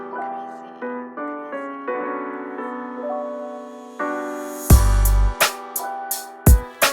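A sustained synth and keys progression in an old-school FL Studio beat carries a quiet reversed crash cymbal swelling in, then drums and bass drop in with punchy hits and rising cymbal-like swells.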